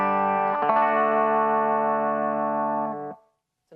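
Steinberger Synapse electric guitar played through its piezo pickup, selected via the blend switch: a chord rings bright and sustained for about three seconds, then is cut off, leaving a short silence.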